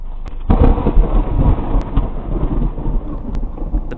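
A loud, close thunderclap from a nearby lightning strike bursts suddenly, then rolls and rumbles heavily for several seconds with rain hissing underneath.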